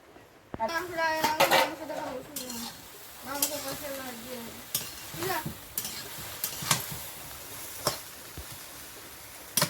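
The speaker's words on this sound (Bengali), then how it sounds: "এটা একটু নেড়ে চেড়ে একটু শুকনো করে ভেজে তারপরে জলটা দিই" Chicken curry being stirred and fried in a pan: scraping spatula strokes and a steady sizzle run throughout, with a voice talking over the first half and short sharp utensil knocks later.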